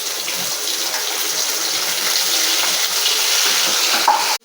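Shrimp frying in hot oil with cumin, bay leaf and spices, a steady loud sizzle and hiss throughout with faint stirring, ending abruptly.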